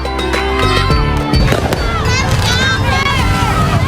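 Fireworks crackling and popping at a Ramadan torch parade in a Jakarta neighborhood, sharp bursts loud at the start then a dense festive din of crowd and voices, with a narrator speaking over it.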